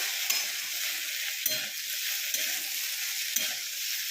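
Potatoes and green peas fry in a pan with yellow turmeric, a steady bright sizzle punctuated by a few soft stirring scrapes, close and continuous with no talk.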